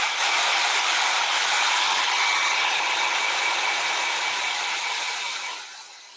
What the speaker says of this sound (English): I'm just going to give that a quick dry with the hairdryer